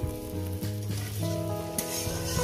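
Mourala fish chorchori with potato, bitter gourd and eggplant sizzles steadily in a pan over low to medium heat, a close, continuous frying hiss with faint stirring and no talking.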